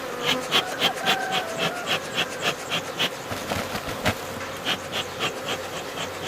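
Honey bees buzz close around a hive while a beekeeper works it with smoke, a dense hum broken by rhythmic scraping or rubbing sounds.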